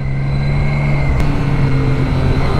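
A Triumph Street Triple R motorcycle engine runs steadily while riding, a continuous low hum and buzz held at moderate throttle without hard revving, close and fairly loud for a few seconds.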